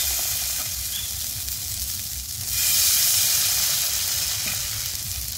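Rice flour batter for chakli pitha hissing and sizzling loudly on an oiled griddle, a dense continuous fry that swells slightly partway through.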